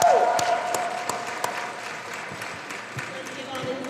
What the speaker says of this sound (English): Let's give all these ladies a round of applause